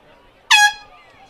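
At a high school football stadium, a handheld air horn gives one loud, piercing blast of about a quarter second, cut off sharply and followed by a short fading echo before things go quiet again.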